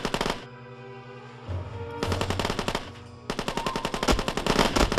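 Rapid automatic gunfire in the Rainbow Six video game, with loud, close bursts of fast shots separated by short pauses, growing denser toward the end.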